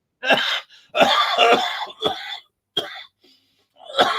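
Several harsh coughing bursts in quick succession, close and fairly loud, with short gaps between them and a final cough trailing off at the end.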